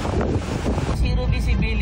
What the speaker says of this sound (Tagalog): Malakas na alon ang naranasan sa Batanes.